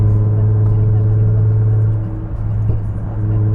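Tuned Nissan GT-R R35 fitted with downpipes, intakes and a blow-off valve, heard from outside as a steady, loud, deep idle drone with a slight dip midway, holding throughout.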